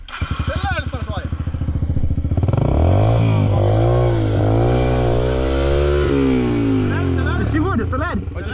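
A trail motorcycle at a kids' trail-riding session revs up hard, its engine note climbing and wavering through repeated throttle pulls, loud and close, with voices calling out over it at the start and end.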